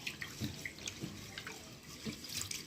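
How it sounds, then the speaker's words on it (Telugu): Rice is swished and rinsed in water for a biryani, giving soft, faint sloshing and dripping with irregular splashes. "ఇప్పుడు రైస్ వాష్ చేసుకోవాలి"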